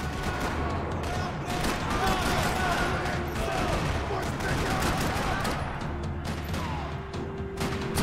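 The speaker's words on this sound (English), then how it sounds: "Parking lot rattling with gunfire." Rapid bursts of automatic gunfire in Max Payne 3 crackle continuously in a parking lot, dense and sustained, with overlapping shots and a busy background of game-style action.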